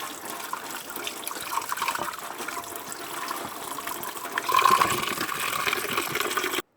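Water running from a tap while tomatoes and green chillies are washed, a steady nearby gush and trickle that grows slightly louder toward the end.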